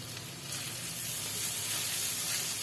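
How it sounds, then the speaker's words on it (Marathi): Garlic pieces, ginger and finely chopped green chilli sizzle steadily in hot butter in a pan, a continuous close frying hiss that swells slightly louder toward the end, with no voices. "बटर टाकल्यानंतर लसूण तुकडे टाकूया, अद्रकचे तुकडे, हिरवी मिरचीचे बारीक केलेले तुकडे"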